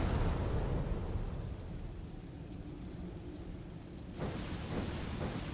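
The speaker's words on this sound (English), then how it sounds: "Those flames are powerful. Stay safe. Watch for the flames to stop firing." Flames fire in Code Vein's City of Falling Flame as a loud, continuous roaring blast that eases slightly, then surges again just after four seconds, with nothing else audible.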